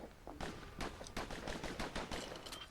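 Rapid gunfire from a gun in the video game Bastion, a quick run of sharp repeated shots in an uneven burst, fairly faint and with no talk.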